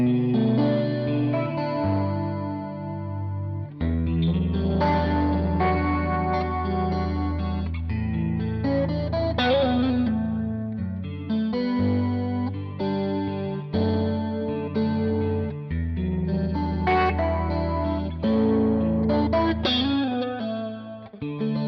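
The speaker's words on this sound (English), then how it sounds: "So then I'm going to turn on the chorus pedal." Electric guitar played through a chorus pedal into an amp, a vintage-style CE-2 type chorus, giving shimmering, gently detuned chords and single notes with a slightly driven edge, loud and continuous with no talk.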